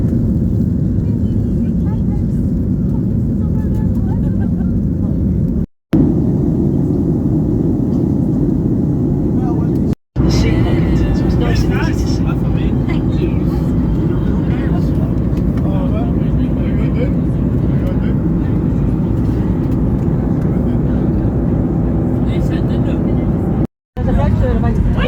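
Steady, loud low roar of airplane cabin noise during a flight, a continuous engine and air drone that runs throughout, with brief cuts and people talking over it.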